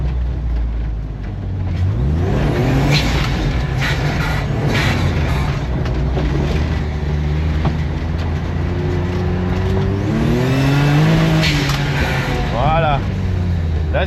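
Tuned turbocharged car pulling off gravel onto pavement, a loud, close engine note rising and falling as it revs, with rumbling tyre and road noise. Someone talks over it.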